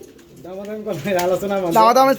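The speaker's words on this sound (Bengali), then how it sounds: "এটা হচ্ছে মাদি কবুতর" A female pigeon coos up close, a string of throaty, warbling coos that grow fuller toward the end.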